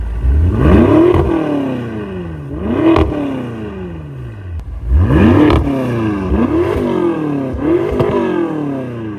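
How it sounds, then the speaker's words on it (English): A BMW M5 engine revs repeatedly through a new loud exhaust, rising and falling in pitch with several sharp throttle blips, close and powerful. "I'm dying to hear how this car sounds exhaust only."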